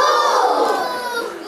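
A group of schoolboys shout together in unison at a World Water Day event, one loud sustained collective cry that fills the whole moment.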